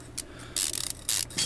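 Bolt being screwed in within the Car Mechanic Simulator 2015 game: short bursts of ratcheting, rasping mechanical sound, a few separate spins with a clicking run between them, close and fairly quiet.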